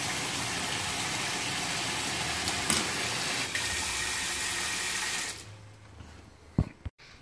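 A strong jet of water pours steadily from a kitchen tap after the household water pressure was boosted, loud and continuous before cutting off, then a few faint clatters.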